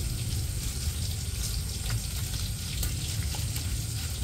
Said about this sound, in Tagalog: Nagpiprito pa po doon si Seth.